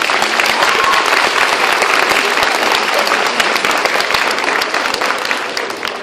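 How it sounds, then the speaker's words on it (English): Loud, sustained applause from a high school audience fills the space, dense and continuous, tapering slightly toward the end with no talking over it. "Everybody give him a round of applause"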